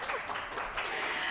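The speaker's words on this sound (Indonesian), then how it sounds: "Tepuk tangan lagi." An audience breaks into a short burst of applause, dense even clapping lasting only a moment.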